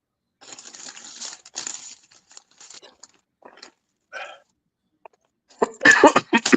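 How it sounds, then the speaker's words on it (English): A man coughs in scattered, raspy bursts between quiet pauses, close to the microphone, ending in a louder cluster of harsh hacking coughs. "I'm coughing, man."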